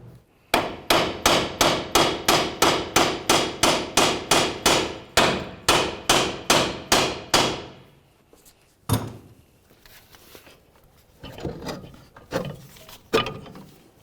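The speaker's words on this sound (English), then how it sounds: "We're going to tap along the top of the knuckle right here" A hammer strikes the steering knuckle of a 2010-2013 Ford Transit Connect 2.0L in a fast, steady series of about twenty loud blows, then a few scattered, quieter knocks follow.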